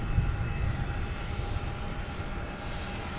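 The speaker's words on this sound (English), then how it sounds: "And we have United Airlines heading to Houston, 737 MAX 8." A United Airlines Boeing 737 MAX 8 jet gives off a steady low rumble with a faint whine on top, moderately distant and constant, with no talk.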